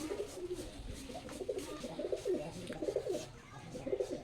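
Rajshahi Giribaj pigeons, breeding pairs kept at a home loft, coo softly in repeated low throaty pulses. The sound is faint and close, with light rustling around it.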